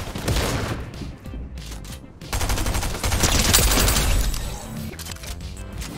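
Rapid bursts of automatic gunfire in the Fortnite Zero Build video game, loud and dense, with short pauses between volleys and some clattering mechanical sounds mixed in.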